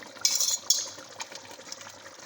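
Yogurt goes into a spiced masala in a pot over a lowered flame, with a short wet splash and clatter up front before the sound tapers into a soft simmer.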